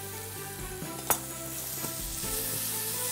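Carrot sizzles in a frying pan on a stovetop turned to high heat, a steady close crackling hiss broken by a sharp clink of utensil against pan, with no talking.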